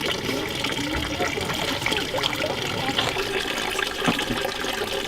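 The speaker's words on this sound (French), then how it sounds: "Je prends un peu d'eau." Water poured from a ladle over the hands at a temizuya purification basin in Tenri, Japan, a continuous close splashing trickle with steady outdoor background.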